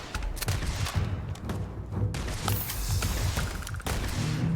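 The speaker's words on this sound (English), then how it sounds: "Trying to shoot them in their weak spots." Enemies are shot at in the space role-playing game Starfield, a dense, continuous barrage of gunfire with thuds and mechanical clatter, loud and up close with little pause.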